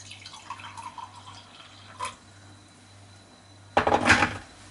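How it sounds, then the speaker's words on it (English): Water is poured into a mug in a short, close gurgling splash near the end, after a few light clinks and drips over a low steady hum. "let's pour some of this water into the mug."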